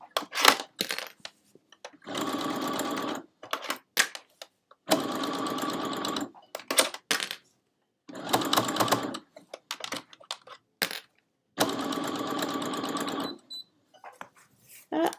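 A sewing machine stitches thick burlap for a Christmas stocking, running in several sustained bursts of a few seconds each, separated by pauses with faint handling noises.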